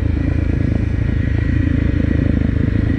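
A 2018 Honda CRF250L dual-sport motorcycle ridden off road on trails, its engine droning loud and steady throughout with some rattling clatter, no speech.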